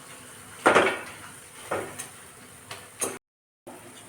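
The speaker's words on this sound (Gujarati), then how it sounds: "આને આવી રીતે થોડુંક દબાઈ દેવાનું" Boiled vegetables for pav bhaji, potatoes among them, are mashed in a pan: a few distinct scraping, knocking strokes of the masher, spaced apart, with a brief silent gap near the end.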